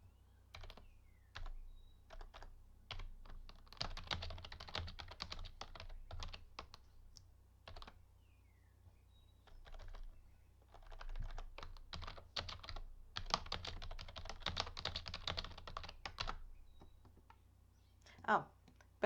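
Fingers type on a computer keyboard in bursts of quick, close clicks with short pauses, while a Spanish-speaking person talks softly over a low steady hum.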